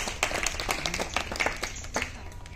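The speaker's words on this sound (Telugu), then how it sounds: "క్లాప్ కొట్టండి" Children clap briefly at a residential summer camp, producing a short burst of scattered, uneven claps that are fairly close and moderate in volume.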